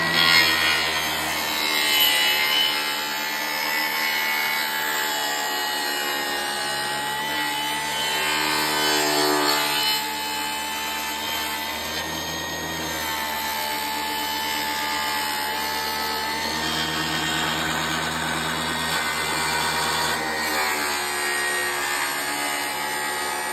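A power saw cuts through wooden pallet boards, angled to miss the nails, in a loud, continuous whine with a buzzing, rasping texture that holds steady across the cut, with no talking.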